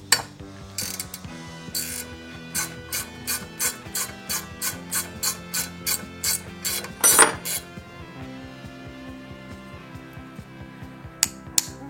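A ratchet wrench tightens a bolt in a quick run of about fifteen evenly spaced metallic clicks, close and clear, with a brief clatter partway through and a few scattered clicks after.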